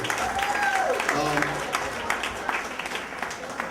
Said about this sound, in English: You need to give yourselves a round of applause